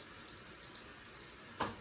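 Tap water runs in a steady, fairly quiet stream at a sink while hair gel is being applied to curly hair, ending in a brief louder splash near the close.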